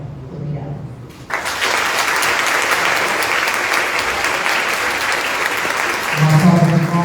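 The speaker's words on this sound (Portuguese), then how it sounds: "Uma salva de palmas para a professora Keila Cardoso" Loud, dense audience applause for a speaker at a launch event bursts in after a brief voice and holds steadily for several seconds, with talking rising again near the end.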